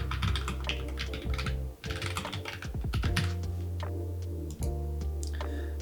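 A project name typed on a computer keyboard: quick clusters of close, crisp key clicks, with short pauses between bursts, over a faint background hum and with no talking.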